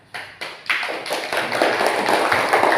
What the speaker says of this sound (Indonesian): beri aplaus untuk kawan-kawannya